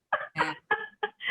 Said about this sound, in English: Every time this timing, the bird will like quack,